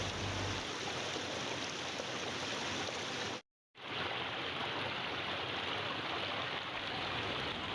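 Steady rushing water flows continuously, a dense hiss of a stream with a brief silent gap midway, no voices.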